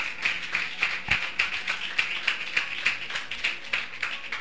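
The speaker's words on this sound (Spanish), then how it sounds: "Dele un aplauso a Jesús" A church congregation claps rhythmically during a service, steady and fairly even, continuing throughout without voices standing out.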